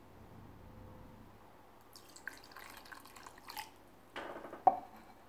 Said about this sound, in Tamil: அது வந்து கையில் கரைச்சி எடுத்துக்கலாம்.